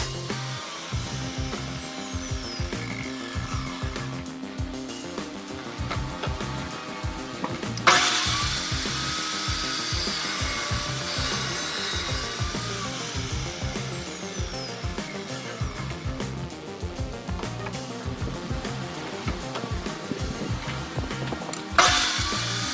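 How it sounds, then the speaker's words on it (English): A power tool cuts grooves into the slats of a plasma water CNC table with a continuous, rough, buzzing grind. It runs steadily throughout with brief surges in intensity. "I finished cutting the rest of the slats."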